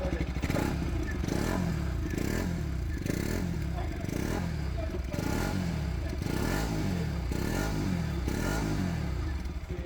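A Bajaj Pulsar RS 200 motorcycle is revved repeatedly up close, each blip of the throttle rising and falling in a series of about eight sharp surges over a rough, clattering idle.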